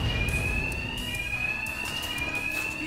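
Alarms blare in Batman: Arkham Knight, a steady high electronic tone ringing continuously and loudly over low rumbling game ambience, with no talk.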